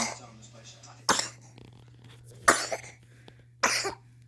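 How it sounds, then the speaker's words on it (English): Three sharp coughs from a person ill with RSV, spaced about a second apart, ring out against a quiet background with a low steady hum. "Now get rid of that cough."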